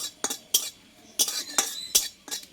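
Dry scraping and metallic clinks of a utensil stirring dried fenugreek leaves dry-roasting in a pan, in short irregular strokes, close by with no talk.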